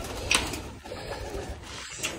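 Pigeons kept in a cage give soft, low cooing calls at close range, with a faint chirp early on over a quiet background hiss.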